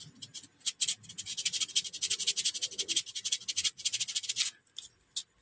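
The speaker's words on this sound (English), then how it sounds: "So I'm going to stop there and go with the sandpaper." Sandpaper rubs back and forth on a small plastic part from a Tamiya Grasshopper model kit, close rapid scratchy strokes in quick bursts with brief pauses, no talking.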